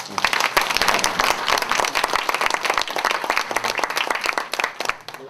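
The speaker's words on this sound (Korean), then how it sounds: "최신호 회장님 박수 한번 쳐주세요" Audience applause at a Korean charity fundraising donation ceremony, a dense, steady roll of many hands clapping that stays loud and even for several seconds.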